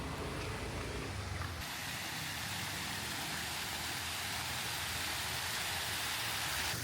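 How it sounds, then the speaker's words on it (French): Rain begins falling outside the Cathedral of the Immaculate Conception in Chanthaburi, Thailand, a steady, broadband hiss of drops that continues unbroken, with no voices. "En plus, la pluie commence à tomber."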